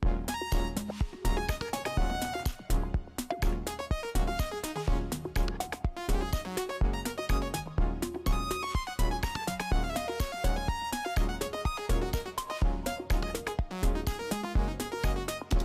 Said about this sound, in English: It's just a saw wave.